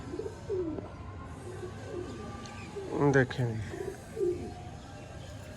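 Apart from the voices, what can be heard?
pigeon cooing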